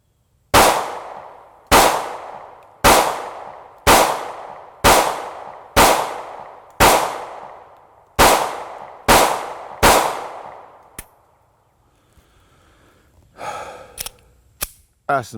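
Ruger firearm with an extended magazine firing cheap, old ball ammunition: ten loud, sharp gunshots in a steady rhythm about one second apart, each ringing off briefly, followed by quiet handling clicks and small clanks.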